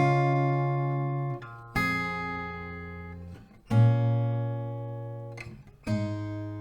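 An acoustic guitar plays the intro chords as four strummed chords, each ringing out and slowly fading before the next, with no voice.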